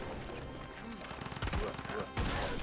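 Cannon fire in Civilization 5: several sharp blasts and crashing impacts sounding over a busy game soundscape, with louder bursts near the middle and end, mixed with battle noise.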